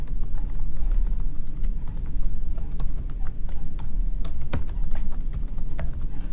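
Rapid computer keyboard typing as gradebook category names are entered, a dense, continuous patter of close key clicks with a few sharper taps, no speech.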